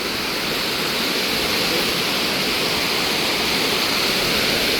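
Loud, steady floodwater rushes under and over a bridge after a cyclone, pouring continuously in a thick unbroken roar with no pauses or voices.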